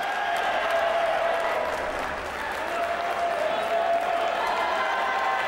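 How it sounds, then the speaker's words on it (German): Spectators in a boxing arena at a heavyweight bout applaud and cheer, a dense continuous wash of clapping and crowd noise that stays loud throughout. "Die Zuschauer haben Spaß hier."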